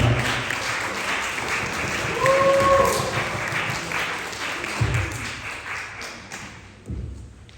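Audience at a school literature day event in Korea applauding a student poet, with dense clapping that swells midway and thins out, a few thumps near the end.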